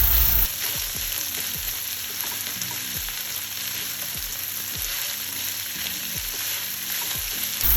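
Vegetables sauteing in a hot pan, a steady loud sizzle with repeated scraping strokes of a spoon or spatula stirring them at an even rhythm.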